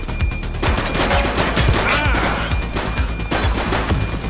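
Sustained gunfire in the police video game The Precinct, rapid overlapping shots close and loud in a continuous barrage over about four seconds.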